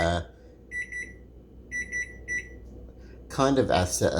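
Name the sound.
alarm clock going off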